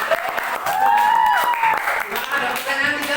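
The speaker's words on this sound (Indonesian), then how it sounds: "tepuk tangan dulu." A junior high school classroom claps after a student presentation, a short burst of steady applause from the group with voices mixed in.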